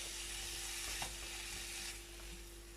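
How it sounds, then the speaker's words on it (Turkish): Minced meat and onions sizzle steadily in a pan while being stirred, a continuous broadband frying hiss with a few faint scraping clicks from the utensil, close and fairly quiet, with no voices. "Kıymayı şöyle karıştırarak soğanlarla kavuruyoruz."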